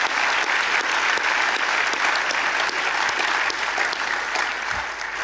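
Audience at a French decoration ceremony applauding award recipients, a steady, dense round of clapping from many hands throughout, fairly even and moderately loud with no talking over it.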